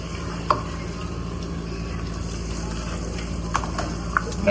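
Paneer masala gravy stirred in a pan, with a low steady simmer and a few sharp spoon clinks against the pan at scattered moments.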